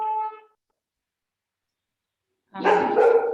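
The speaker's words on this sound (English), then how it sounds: "I wish my dog would stop barking." A pet dog barks at home during an online panel discussion. A short bark opens the clip, then after a silent gap comes a louder, rougher burst of barking, close to the microphone.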